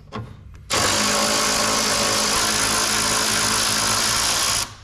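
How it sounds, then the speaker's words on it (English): A power tool, likely an impact gun, runs steadily and loudly to back out a 12mm bolt from the bottom mount of a Mazda RX-8 coilover, starting after a brief pause and continuing for about four seconds before stopping. "to help us pull this bolt off the bottom mount out"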